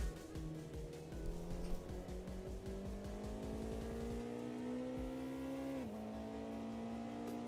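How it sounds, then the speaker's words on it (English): A race car engine in the racing game Automobilista 2 climbs steadily in pitch under load through a long pull, with a brief upshift dip near the end, loud and continuous with no voice over it. "I think this car sounds nice though."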